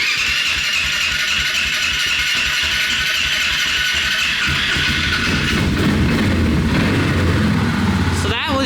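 A Polaris 400 two-stroke engine that had sat unused for a while cranks into life and is given gas without the choke, its rattly mid-pitched idle rising into a louder, rougher rev toward the end.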